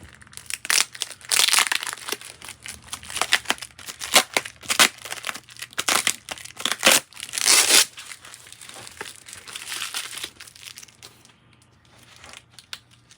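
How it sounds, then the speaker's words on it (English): Packing tape ripped and peeled off a cardboard box flap, a string of crackling, crinkling tears in several bursts over about eight seconds, then quieter handling. "I think we'll just start ripping some of this tape off"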